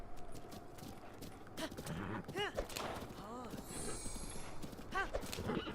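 A horse in The Legend of Zelda: Breath of the Wild trots with rhythmic hoof clip-clops and an occasional whinny, moderately loud under a person talking.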